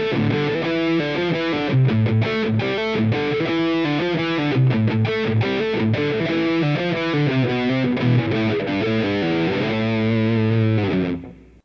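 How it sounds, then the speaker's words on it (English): Electric guitar with humbucker pickups played through distortion turned all the way up, a dense, loud run of saturated chords and riffs that rings steadily for about eleven seconds before cutting off abruptly. "I've got the distortion maxed out"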